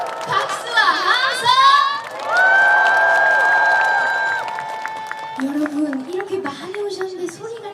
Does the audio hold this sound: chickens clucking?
no